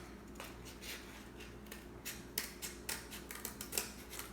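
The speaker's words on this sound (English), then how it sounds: "I just cut out a rectangle from each side of the cardboard." Scissors cut through cardboard while a rectangle is trimmed from each side to make a craft sword, giving a series of crisp snipping and crunching strokes that grow louder and more frequent toward the end, with no talking.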